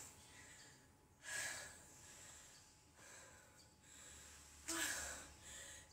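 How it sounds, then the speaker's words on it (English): Person catching their breath after a metabolic workout set, with two strong, sharp breaths standing out over faint, steady background breathing. "I'm breathing quite heavily now."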